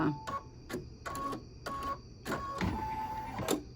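An embroidery machine stitches a small Halloween block design, its needle bar hammering in quick repeated bursts with short pauses between runs, steady and close with a faint whine underneath.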